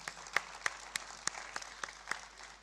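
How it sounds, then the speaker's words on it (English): Scattered applause for distinguished alumni at an award and foundation day ceremony: a thin, sparse patter of a few distinct claps spaced through a quiet hall, fairly faint and uneven. "another round of applause for all for them"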